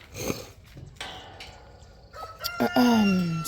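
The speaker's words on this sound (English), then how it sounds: "I've got my light Brahmas in here." Light Brahma chickens in a coop give a clear, close rooster crow near the end, with clucking and scattered bird calls before it, loud and with no talking.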